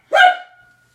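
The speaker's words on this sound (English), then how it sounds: "my dogs." A single short dog bark, loud and close, with a tonal yelp that fades quickly into silence.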